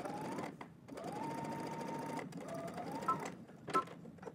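A sewing machine runs steadily while stitching a shirt seam for a Simplicity 9758 pattern, its whirring motor close and continuous with a few brief pauses and restarts.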